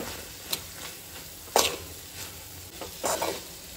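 Spices being stirred in a cooking pan, a few soft scraping strokes of a spoon over a faint sizzle, close and unhurried, with no talk.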